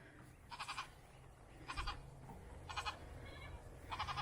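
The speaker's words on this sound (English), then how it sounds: "Bye, baby goats!" Baby goats bleat in five short, bright bursts spaced about a second apart on a farm, quite faint over a low, steady outdoor rumble, with no talking.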